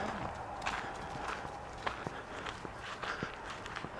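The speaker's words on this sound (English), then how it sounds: "Can you guys hear the grass? It's kind of icy." Footsteps crunching on cold, icy grass outdoors at night, a steady irregular series of soft crisp crunches close by with no talk.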